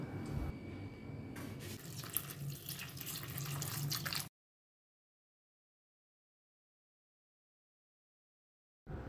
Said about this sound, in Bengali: ঢ্যাঁড়সগুলোর মধ্যে আমি জল দিয়ে দিচ্ছি